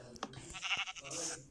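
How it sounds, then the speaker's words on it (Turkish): Sheep in the Minecraft survival game bleat in a couple of short, wavering calls near the end of a brief stretch of game sound. "Ah koyun ama koyuna gerek yok artık."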